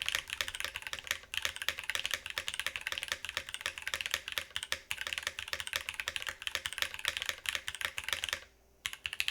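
Fast typing on a mechanical keyboard with linear Emo Goo switches, GMK keycaps and a Cherry-switch spacebar, a dense, steady clatter of keystrokes up close that pauses briefly near the end.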